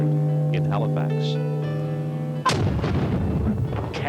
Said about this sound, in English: Cannons roar